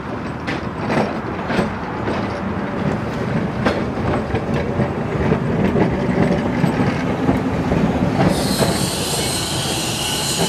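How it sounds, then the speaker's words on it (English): Ballarat tram number 37 running on rails at Sutherland, a steady rumble of wheels with repeated clickety-clack joints and a rising metallic squeal toward the end, loud and close. "number 37, the Ballarat Tram will be run here in Sutherland on the train"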